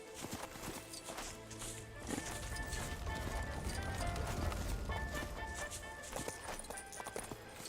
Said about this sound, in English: look at this weird-ass horse.